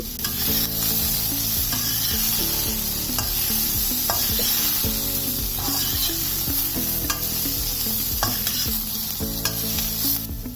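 Fried beef for beef chilli dry being sautéed in a pan, with steady loud sizzling and repeated clanks of a spatula stirring throughout, no talking.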